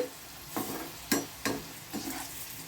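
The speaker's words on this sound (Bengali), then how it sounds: "এইভাবে আমি বাকি সবগুলো ভেজে নেব" Soft sizzling of okra frying in a pan, with a few scraping stirs breaking through at intervals; no voices.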